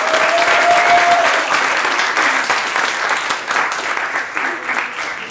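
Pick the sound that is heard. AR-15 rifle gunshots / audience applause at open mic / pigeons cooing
audience applause at open mic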